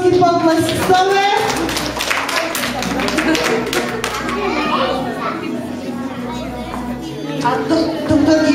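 Children and adults at a kids' carnival clap for a little girl dressed as an owl, a lively scattered patter mixed with children's voices and chatter throughout.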